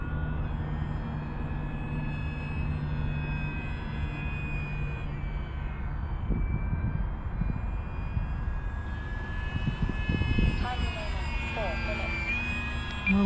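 FMS Maule 1500mm RC STOL high-wing model airplane in flight, its electric motor giving a steady whine and drone that shifts in pitch as throttle changes, with wind buffeting and a person talking throughout.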